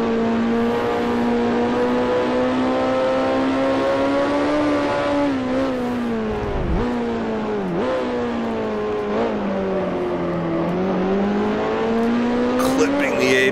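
A 1968 Formula 2 race car's engine revs in Grand Prix Legends at Thruxton, a loud continuous buzzing drone that rises and falls with gear changes and throttle, with a brief dip midway.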